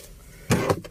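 Glove compartment drawer in a 2022 Wuling Formo 1.2 five-seater facelift, a quick close plastic clunk followed by a lighter second knock inside the quiet cabin.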